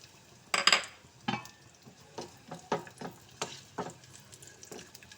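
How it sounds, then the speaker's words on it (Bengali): Cashews and raisins frying in a pan for a flattened-rice biriyani, with a soft sizzle under a series of sharp spoon-against-pan scrapes and clinks, irregularly spaced and close up. "তো কাজু কিশমিশ এগুলো সব ভাজা হয়ে গেছে।"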